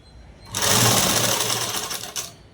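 A sewing machine stitches thin saree cloth for a collar dress, running in one steady, close whirring burst of about two seconds after a quiet start, with no talking.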